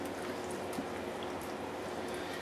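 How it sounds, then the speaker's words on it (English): Vinegar-based Southern BBQ marinade poured over chicken halves, a steady wet splashing and trickling that runs close and continuous without a break, with no talk over it. "pour our marinade all over this chicken."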